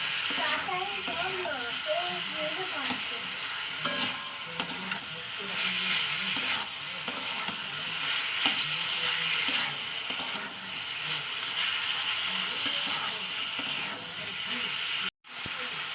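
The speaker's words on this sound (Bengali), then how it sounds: "এবার এটা ভালো ভালো করে কষিয়ে নেবো তেলের উপরে একটু কষিয়ে নিয়ে তারপর আমি জল দিয়ে দেবো" Salt and turmeric masala frying in oil sizzles with a constant hiss while a utensil stirs and scrapes the pan in irregular strokes, heard close up throughout with no talking.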